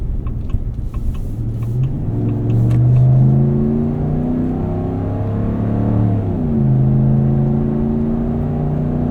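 A 2026 Ram 1500 pickup's 5.7L Hemi V8 accelerates while towing with a deep, loud rumble, rising in pitch, easing briefly, then revving up again.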